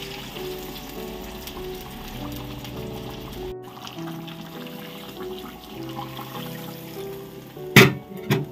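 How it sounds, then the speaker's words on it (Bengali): Lukewarm water is poured into a pan of fried, pre-boiled potatoes and spices for a green jackfruit kofta gravy, giving a soft steady sizzle with a brief louder splash and hiss near the end. "এখন আমি এখানে গরম জল একটু, মানে হালকা গরম জল অ্যাড করে দেব"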